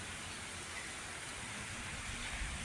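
Rain falls steadily beyond a balcony, a faint, even hiss that stays constant throughout with no voices.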